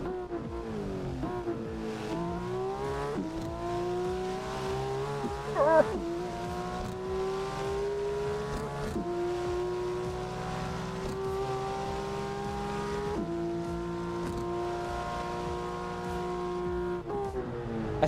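A Porsche race car in the Assetto Corsa racing game sings a loud, continuous engine note that climbs steadily, drops at each gear change and climbs again, with a brief tyre or impact burst partway through and no talk.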